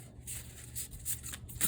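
Papery tarot cards being shuffled in quick rustling riffles, close by, over a low steady background hum.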